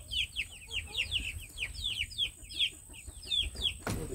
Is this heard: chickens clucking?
yes